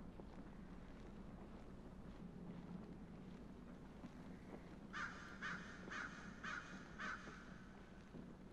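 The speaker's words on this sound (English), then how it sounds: "Except for these birds, they kind of just annoy me more than anything." Crows in the horror video game Don't Scream caw five times in a quick, evenly spaced series, moderately close, after a stretch of quiet wind-like ambience with no talk.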